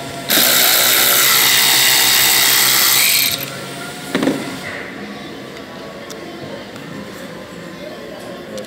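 Power drill unscrewing a screw from a Mini Cooper tail light, a loud high whir for about three seconds, then a short clunk and quieter handling noises.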